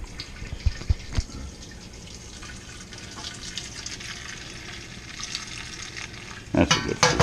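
Plum brew wort pours steadily into a kettle, a continuous broadband rush of running liquid with a few sharper splashes and a louder surge near the end.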